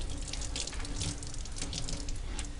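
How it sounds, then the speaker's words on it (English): Water runs steadily from a sink tap while the sink area is cleaned up after painting, a continuous close splashing hiss with no talk over it. "I'm going to turn off my water"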